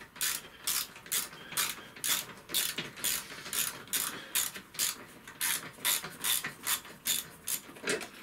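A stubby ratchet wrench clicks rhythmically while backing out a rusty bolt during a Honda Vision 110 scooter engine rebuild. The rapid, evenly spaced ratchet ticks are close, fairly quiet and uninterrupted.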